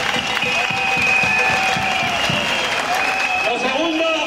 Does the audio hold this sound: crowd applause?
yes